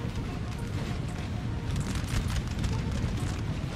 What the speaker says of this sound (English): Howitzers obviously going in as well.